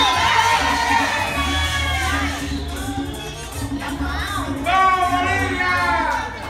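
Crowd at a children's beauty pageant cheers and shouts for a young contestant, excited children's voices and whoops rising in bursts over a busy hall murmur, with a presenter speaking briefly.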